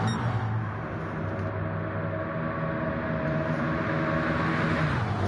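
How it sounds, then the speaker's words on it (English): Loud, steady racing-engine roar of race cars passing at Daytona in a video game fills the whole stretch, a dense continuous drone with no voices over it. "Listen to them engines going by. They're really loud and menacing because this is a brand new car."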